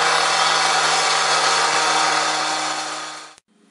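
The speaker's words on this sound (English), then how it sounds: "We start by using our partner saw and cutting out the section across the drive where we're going to install our 5-inch channel drain" A gas-powered partner saw cuts through a concrete driveway with a loud, steady, harsh roar that holds for several seconds, then winds down and stops abruptly.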